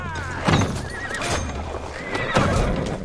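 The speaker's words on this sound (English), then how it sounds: "Horses give them advantage." Horses neigh and whinny during a cavalry ambush in the video game Assassin's Creed Valhalla, set in Francia, with two loud whinnies over hoof clatter and battle noise.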